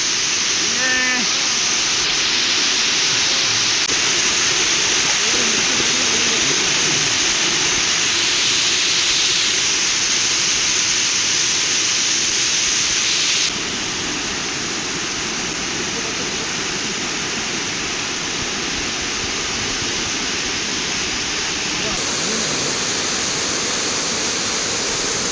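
Dudhsagar waterfall roars steadily, a loud, broad, unbroken wash of falling water from close range with no voices and only slight shifts in tone over the whole stretch.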